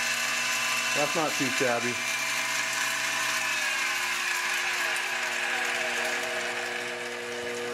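A mini mill spindle driven by an MC-60 treadmill motor controller, a steady high mechanical whine that swoops up in a few quick revs before settling into a continuous hum, with someone speaking briefly.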